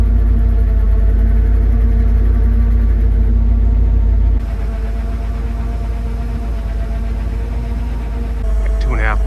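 A bucket truck's engine runs steadily from the deck controls at a roofing job, a close, even low rumble that drops slightly in level midway and stays constant to the end.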